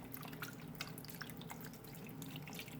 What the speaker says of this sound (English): now we're going to pour enough beef broth in here